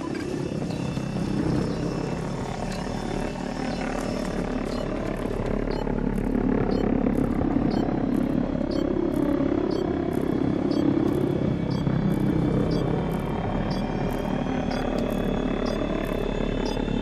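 An extraction helicopter's engine and rotor drone steadily and loudly in the Battlefield 2042 video game, a continuous whirring hum lasting throughout with faint tonal whines above.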